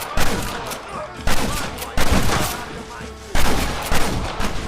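Video game gunfire rings out during a shootout at a gate in Red Dead Redemption, with several loud, close volleys of rapid shots. Each volley fades before the next, about five in under five seconds.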